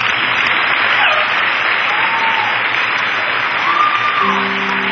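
An audience claps through a graduation ceremony: dense, continuous applause that holds steady for the whole stretch, with faint tonal hums and whistles underneath and no talk over it.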